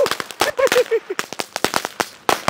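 Deepavali firecrackers set off by a family outdoors give a rapid string of sharp cracks and pops, some close and loud, with excited voices calling out between and over the bursts.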